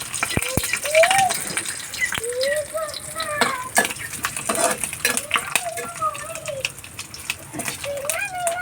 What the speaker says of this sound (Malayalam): ചൂടായി കടുക് ഇട്ട് കൊടുക്കുവാണേ. അതിലോട്ട് ഇത്രയും തേങ്ങാക്കൊത്തെ